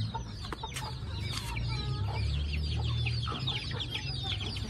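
An aseel hen clucks in short repeated bursts during a fight, close and fairly loud over a low rumbling background with scattered rustles and thumps.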